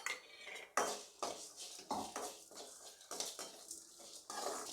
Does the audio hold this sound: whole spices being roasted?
yes